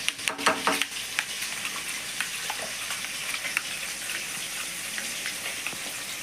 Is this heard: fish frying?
yes